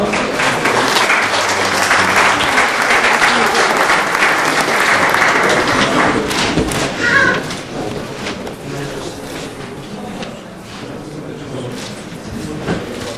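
An audience applauds at a karting season awards ceremony, a loud sustained round of clapping that fades after several seconds into quieter room murmur with a few scattered claps.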